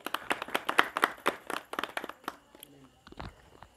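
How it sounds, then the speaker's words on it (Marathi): Gathering at a religious satsang in Chalisgaon clapping to welcome visiting monks and saints: a quick run of distinct, fairly close handclaps that thins out and fades into sparse claps and quiet, with faint murmur beneath. "त्यांचे आपण टाळ्या वाजवून स्वागत करू।"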